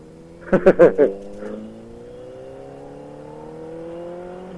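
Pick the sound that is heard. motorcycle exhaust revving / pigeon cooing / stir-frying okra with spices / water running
motorcycle exhaust revving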